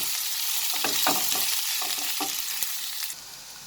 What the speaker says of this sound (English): I will cook this till the onions become slightly transparent